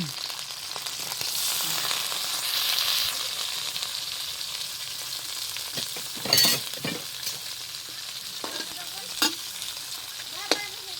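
Loud sizzling of frying in hot oil, strongest early on, followed by occasional clinks and scrapes of a utensil against the pan.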